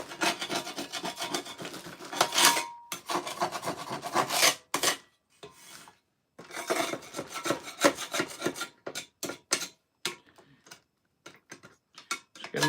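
The edge of a square rasps glue off a wooden end grain board in bursts of rough, close scraping, broken by short pauses and a run of quick, choppy strokes near the end.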